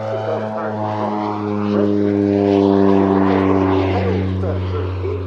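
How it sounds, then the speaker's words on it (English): A Bronco propeller aircraft at an airshow gives off a steady droning engine and propeller hum with strong tonal whine, growing slightly louder midway, while an announcer's voice talks over it. "The propeller wash, which helps allow single-engine takeoffs should they be necessary, even from unprepared strips."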